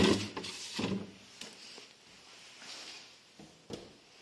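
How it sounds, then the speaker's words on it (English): Fridge freezer drawers in a newly fitted kitchen slide and knock shut a few times, close by, with scattered soft thumps and rubbing between the louder bumps. "So all the drawers on the freezer are fully functioning"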